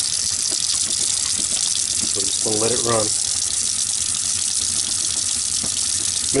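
An RV fresh water faucet pours a steady rushing stream close by, with a short voice-like tonal sound partway through over the constant flow.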